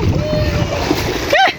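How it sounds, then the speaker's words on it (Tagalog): Sea water splashing at a murky beach during a family swim, a steady wash of surf and splatter close by, ending in a brief louder slosh while voices talk underneath. "mao ni among dagat guys"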